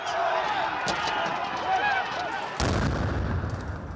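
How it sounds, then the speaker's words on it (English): Stun grenades going off amid riots and street protests, sharp bangs echoing at a distance over a noisy crowd, ending in a heavier blast with a rumbling wash. "Security forces used stun grenades and tear gas and were often overwhelmed."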